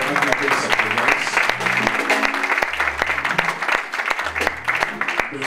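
A church congregation applauds with steady clapping throughout, while a voice speaks at the same time.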